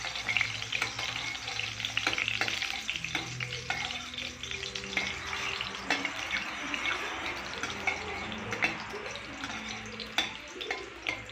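Cinnamon and cloves frying in already-hot oil in a pan, a crackling sizzle with intermittent pops and stirring scrapes over about eleven seconds, fairly close and moderately loud.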